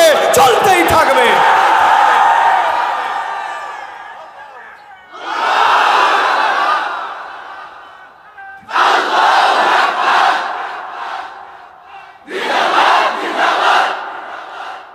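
A large crowd at a Bangladeshi rally roars the slogan Allahu Akbar in four loud, massed bursts separated by short pauses.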